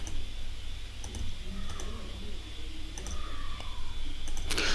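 Computer mouse clicks while drawing in ArchiCAD software: a few crisp, isolated clicks spaced irregularly over a steady background hum.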